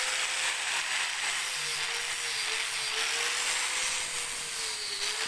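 An angle grinder cuts a shallow groove into a wooden piece to seat bearings for a homemade generator, giving a steady, continuous high whine with a slowly wavering tone that holds throughout at close range.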